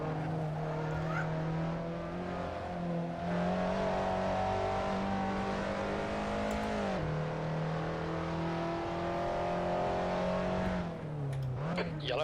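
A race car engine in a sim racing game holds a loud steady drone, revving up and dropping as gears shift twice, with tires squealing near the end.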